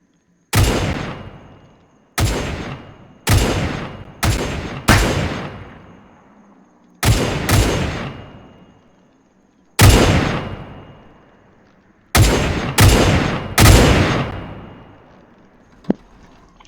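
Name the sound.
Hurricane Mark IIc aircraft cannons firing in video game Arma 3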